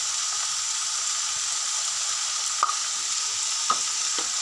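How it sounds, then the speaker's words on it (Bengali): Food seasoned with salt, turmeric and cumin powder frying in a pan, a steady close sizzle with a few soft stirring clinks. "দিয়ে এটাকে ফ্রাই করতে থাকলাম"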